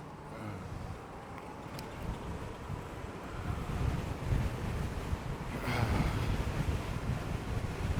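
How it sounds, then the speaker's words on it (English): Strong headwind buffets the microphone during an eBike ride on a Wired Cruiser, a steady roaring rush that swells louder in gusts toward the end, with no talking. "Wow, the wind's right in my face."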